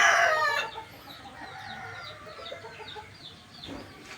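At a small farm's chicken coop, a rooster crows loudly at the start, then hens keep up a busy, fainter chorus of clucks and chatter in the background.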